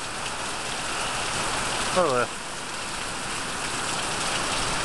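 Heavy thunderstorm rain pours steadily in Chippewa County, Michigan, a constant close hiss of water, with someone speaking briefly in the middle.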